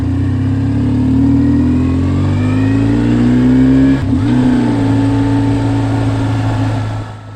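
A BMW R1150R motorcycle is ridden near new subdivisions in Boise, Idaho, with a steady, loud engine drone that rises in pitch, dips briefly around a gear change, then holds before easing off at the end.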